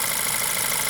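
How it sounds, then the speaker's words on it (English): A car engine running lean from a bad diaphragm idles roughly with misfires, a close, steady mechanical drone with faint uneven pulses over about a second. "As soon as I take that off, the engine stumbles some more and the squealing stops."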